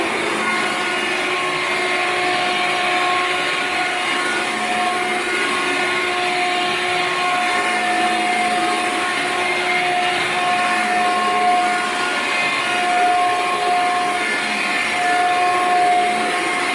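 A Hoover Air Cordless 20 Volt lithium-ion 2-in-1 stick vacuum runs steadily and close, giving a constant whining motor drone with no pauses and nobody talking.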